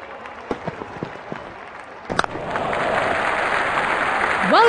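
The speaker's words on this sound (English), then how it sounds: "Crowd is going crazy." A cricket stadium crowd during an India international match roars and applauds after a six, starting with scattered claps and swelling into loud, sustained cheering and clapping near the end.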